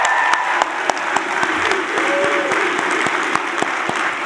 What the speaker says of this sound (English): Graduates, one final round of applause for you